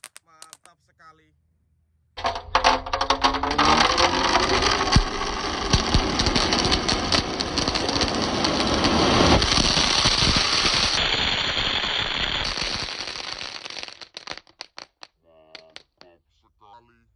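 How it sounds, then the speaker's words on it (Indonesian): Spinning firecrackers and dino egg crackers go off inside a water gallon, a dense rapid crackling barrage lasting about twelve seconds after a quiet start, then tapering into scattered pops. "eksperimen menyalakan mercon di dalam galon hari ini"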